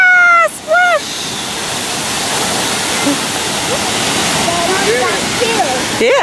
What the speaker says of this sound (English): Wow, splash!